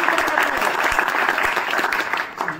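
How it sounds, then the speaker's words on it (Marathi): Dense, loud clapping from an audience at a school reunion event, a steady wash of applause lasting the full moment. "जोरदार टाळ्या त्याच्यासाठी."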